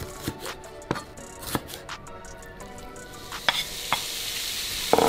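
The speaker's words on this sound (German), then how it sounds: "Braten wir das mit einem Teelöffel Olivenöl an." Ground beef fries in a teaspoon of olive oil, giving a continuous close sizzle with sharp scraping and tapping from a spatula stirring the meat. No one speaks.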